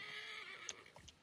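A horse in the video game Assassin's Creed Origins whinnies when called, a short bright neigh followed by a couple of soft hoof clops, fairly close and clear.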